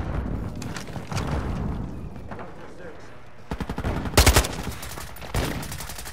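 Weapons fire during a Call of Duty: Modern Warfare match: scattered shots at first, then a rapid automatic burst of close, loud cracks, with further single shots afterward and combat voices mixed in.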